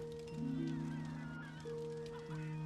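Game birds on a beach in Return to Mysterious Island give repeated goose-like honks, sustained and layered, over a steady ambient backdrop.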